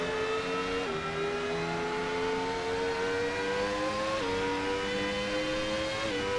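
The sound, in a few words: Williams FW19 V10 engine and gearbox transmission noise, racing video game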